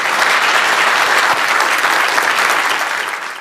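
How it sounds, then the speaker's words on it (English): Audience applause after a talk on automating web application infrastructure, a dense, steady burst of many hands clapping close by, holding loud throughout before easing slightly at the end, with no talk over it. "let's give another round of applause here for Kate."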